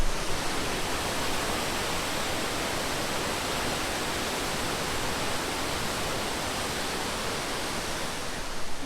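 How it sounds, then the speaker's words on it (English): Mystic Falls waterfall in Yellowstone roars as a dense, steady broadband rush of falling water, loud and unbroken for the whole stretch with no voices. "We're at the waterfall."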